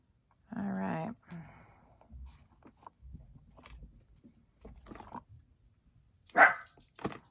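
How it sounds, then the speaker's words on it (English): A pet dog named Bandit gives a single close, clear bark near the start, followed by scattered quieter shuffles and a couple of sharp knocks later on. "He likes to bark."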